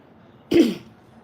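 A single sharp, close cough with a rasping throat-clearing quality, rising abruptly out of near silence and trailing off quickly.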